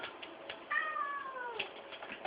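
A house cat meows at feeding time, giving one long drawn-out meow close by in a quiet room, with faint clinks and rustles around it.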